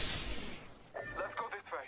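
A tank cannon fires in a tank video game, a loud, broad blast at the very start that decays over about a second, followed by someone talking.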